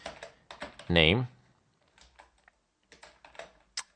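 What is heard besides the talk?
typing code on a computer keyboard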